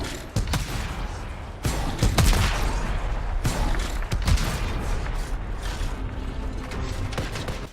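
Explosions and heavy weapon fire from the Colossus javelin's giant missile launcher in the video game Anthem, a dense, continuous battle din with several sharp booming blasts standing out over roughly eight seconds.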